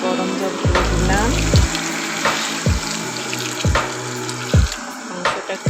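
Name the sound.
hot water poured into chicken curry in pan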